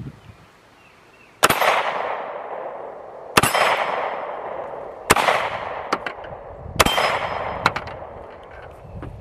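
Taurus G3C pistol fired outdoors at a steel target: four loud, sharp shots spaced about two seconds apart, each with a long ringing decay and a few brief metallic tings from the struck steel, no talking.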